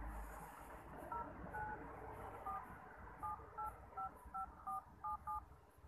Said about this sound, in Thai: ที่เรากดที่แป้นตัวเลขแล้วเราพิมพ์เบอร์ไปนะครับ